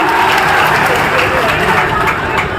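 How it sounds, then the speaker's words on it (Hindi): A large crowd at an outdoor public event in Rajasthan claps loudly and steadily, a dense continuous applause that fills the whole stretch with no pauses. "तब आपके लिए ताली तो बजाओ यारो, जोर से बजाओ"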